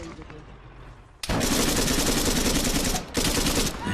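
Rapid automatic gunfire from the Arma 3 video game in a King of the Hill match rings out loud and continuous for nearly three seconds, breaks off for a moment, then resumes, after a quieter stretch of distant ambience.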